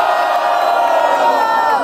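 A hip-hop battle crowd at Batalha da Leste in Brazil cheers and shouts for a rapper, a loud, steady wall of voices and whoops sustained throughout without a break.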